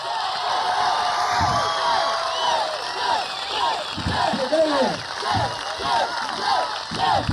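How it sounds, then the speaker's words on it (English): Comedy club audience cheering, whooping and applauding loudly and continuously, a dense roar of crowd noise with shouts rising through it. "How about a nice big round of applause, Mr. Jay Johnson!"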